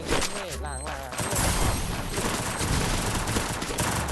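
Gunfire in the Free Fire video game, a brief burst of shots followed by steady dense game sound effects, with Thai-speaking players talking excitedly over the top throughout.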